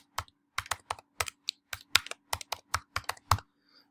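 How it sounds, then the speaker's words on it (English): Keystrokes on a computer keyboard while a password is typed during a Windows Server 2012 R2 install, about fifteen crisp clicks in a quick, uneven rhythm, close and clear with no talking. "So here I'm going to specify the password. Make sure I type that correctly."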